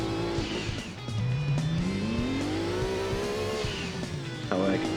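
A rally car in Gran Turismo 2 races over sandy hills, its engine revving loud and close. The pitch climbs steadily as it accelerates, with tyre squeals and skids, while a voice talks faintly underneath.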